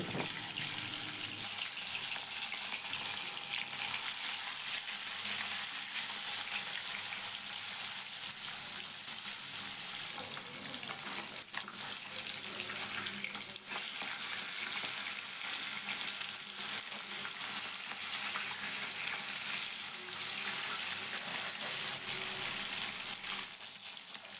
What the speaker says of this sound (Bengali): তারপরে এর মধ্যে মাছগুলো দিয়ে মাছগুলোকে খুব ভালো করে আমি ভেজে নেব।